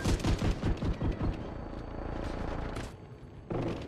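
Rapid bursts of automatic gunfire in Rainbow Six, several loud close volleys in the opening second and a half, then a sustained rattle and a final short burst.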